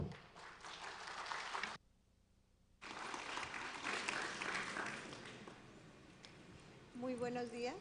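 Audience applause welcoming a speaker to a renewable energy markets panel at a university event, moderate clapping from a seated crowd with a brief dropout midway and a voice starting near the end.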